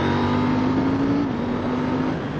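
A KTM Duke 790 twin-cylinder motorcycle engine drones loudly and steadily up close, holding a constant pitch before dropping slightly, with rushing wind noise throughout.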